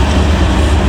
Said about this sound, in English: Something's coming. Oh, it's a train.